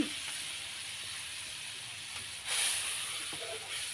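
Water poured into a hot pan of pad thai rice noodles gives a steady hiss of sizzling steam that swells sharply partway through, with no talking over it.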